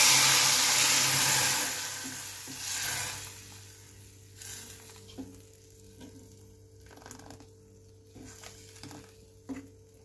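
Loud hot-oil sizzling as garlic goes into a tempering, quickly dying down to a softer crackle with a few light clinks of a utensil in the pan.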